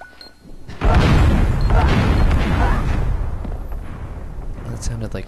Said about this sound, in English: That sounded like three explosions